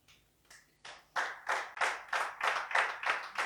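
A congregation at a church service claps in acclamation, the beat starting sparse and soft, then building into a steady, rhythmic run of loud, evenly spaced claps from a group of hands.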